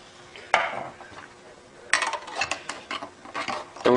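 A spoon knocks and scrapes against a small pot while Turkish coffee is being stirred, with a few sharp clinks and a stretch of quick rattling strokes at close range.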